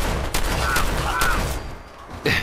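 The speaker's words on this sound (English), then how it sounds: "Okay, shotgun!" Gunfire from a shotgun in the video game Fallout 4: loud, close blasts with a rumbling low-end tail, one near the start, others through the middle and a final sharp shot near the end.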